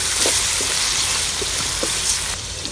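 Tomatoes and green chillies frying in a pan give a steady, dense sizzle, loud and close, with a few soft stirring clicks and a brief drop in intensity near the end; no talking.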